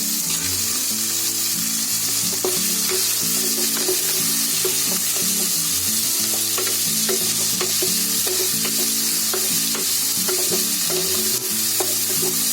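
Spring onion greens and prawns fry in hot oil with a loud, constant sizzle, punctuated by regular scraping and clinking as a spatula stirs the pan, close and without any talking.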